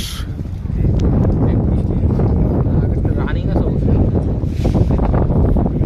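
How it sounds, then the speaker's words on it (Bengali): Strong wind sweeps over the rough Meghna river on an afternoon outing, a loud, continuous buffeting rumble hitting the microphone throughout, with muffled voices buried beneath it. "কি বাতাস"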